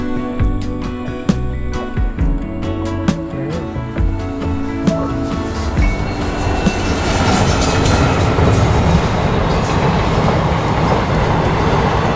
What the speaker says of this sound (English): There's another train coming, let's see if we can get that.